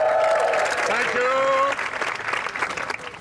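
A home crowd at an Eton Fives court breaks into loud, close applause, the clapping thinning out toward the end while someone talks over it.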